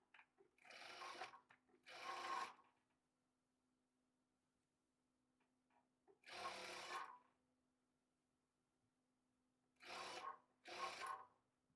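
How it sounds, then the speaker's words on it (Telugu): A sewing machine stitches a blouse hem in short bursts, five separate runs of rapid whirring of about half a second to a second each with quiet pauses between, close and clear over a faint steady hum. "ఇప్పుడు ఇదే స్టిచ్ మీద ఇంకొక స్టిచ్ వేసుకోవాలి"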